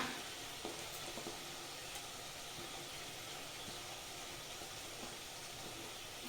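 Green chilli, ginger and garlic paste sizzles in hot oil as tempering for chicken white biryani, a steady, quiet hiss with faint crackles throughout.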